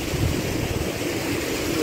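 A waterfall at an outdoor spot gives a steady, broadband rushing roar of falling water, close and constant throughout with no pauses.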